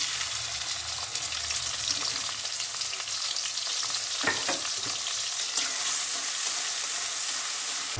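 Sliced onion and nigella seeds fry in hot oil in a wok, a steady, dense sizzle with a few brief stirring scrapes partway through, close and continuous with no voices.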